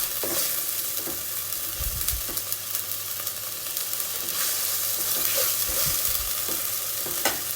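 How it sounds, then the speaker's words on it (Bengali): Onion, ginger, garlic and ground turmeric, chili, coriander and cumin fry in a pan for a North Bengal potato and egg dish, giving a loud continuous sizzle with scattered scrapes and soft thuds of stirring, close up. "আমি মশলাটা ভালো করে কষিয়ে নেব"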